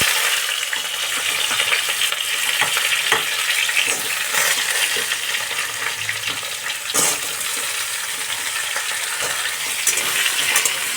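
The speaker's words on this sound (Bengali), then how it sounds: "দেখো, আঁচ কমিয়ে আমি ভেজে নিচ্ছি কুমড়ো আর বেগুন।" Pumpkin and eggplant pieces frying in a pan over low heat, a steady loud sizzle with occasional stirring scrapes and clinks, close up and continuous.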